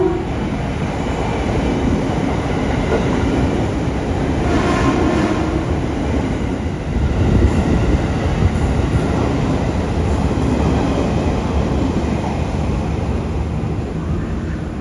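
Batavia economy passenger train waiting at a station platform, a steady loud rumble of the idling train and station machinery that holds unbroken throughout, with no talk.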